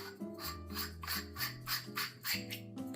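A stainless steel burr hand grinder crushing coffee beans at a coarse setting, producing rhythmic grinding rasps with each turn of the crank, close and steady alongside faint background music.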